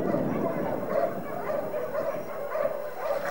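Many dogs bark and yip continuously at a dog shelter in Russia, a dense overlapping chorus at moderate distance with rhythmic swells of barking.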